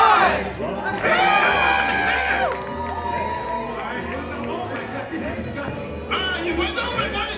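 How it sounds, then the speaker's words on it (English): Crowd at a film Q&A screening of Violent Night cheering and shouting loudly on cue, a sustained wash of voices with whoops and yells, music playing underneath throughout. "we need you all to cheer"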